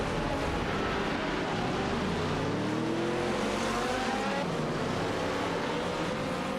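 A Lamborghini Murcielago RGT and Saleen S7R race in a video game, several engines wailing and overlapping as their pitches rise and fall, loud and continuous without talk.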